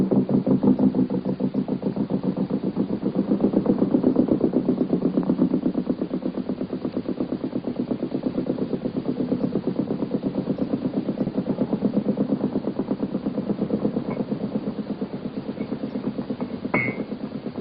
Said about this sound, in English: The motorboat goes round and will secure alongside and astern of the whaler.